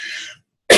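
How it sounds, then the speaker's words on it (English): A single sharp, loud cough bursts out at the end after a moment of silence, preceded by a softer breathy throat noise. "isn't that typical that once I'm recording this video, I'm starting to get a cough"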